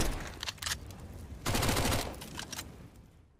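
Gunfire in Counter-Strike: Global Offensive, several bursts of rapid shots with a dense volley in the middle, fairly close and punchy, trailing into quieter game ambience.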